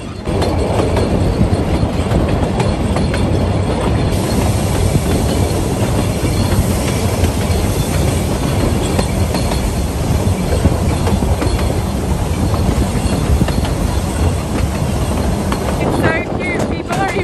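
A steam train on the Puffing Billy Railway rolls steadily along the rails, heard from the back carriage, a loud continuous rumble with rattling and clatter from the carriages throughout.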